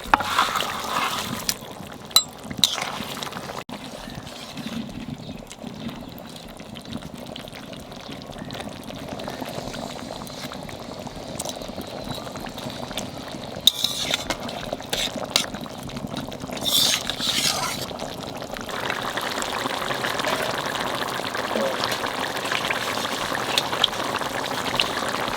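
Large Ganges pabda fish simmering in a spiced mustard-oil broth for tel jhal, a steady, close bubbling and seething of liquid that runs on without pause and grows slightly fuller toward the end.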